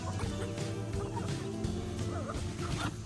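Chickens cluck and gobble close by in a busy, continuous chorus of fowl calls, with no talking.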